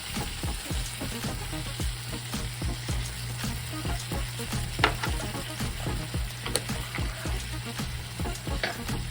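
Fennel sautés with oregano in a pan, a continuous close sizzle broken by scattered clicks and scrapes of stirring, with no one speaking.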